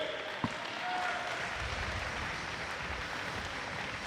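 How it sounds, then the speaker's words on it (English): Audience applause for medal winners at a para-swimming international meet finals, a steady, moderately distant clapping that swells after a brief thud and continues evenly under a faint voice. "round of applause for all of our medal winners"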